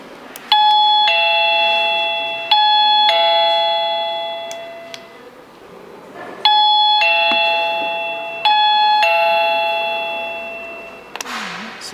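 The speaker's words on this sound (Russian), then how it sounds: "Только звуковая." ERA C108 wireless doorbell in sound-only mode plays its electronic chime melody twice, clear, close and loud, with a brief click near the end.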